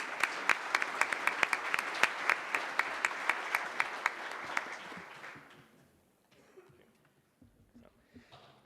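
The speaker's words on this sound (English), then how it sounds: "Please welcome, in giving a big applause to our speakers." Audience applause at an AI ethics conference session on moral competence and human rights, steady dense clapping for about five seconds that then fades away, leaving quiet room noise.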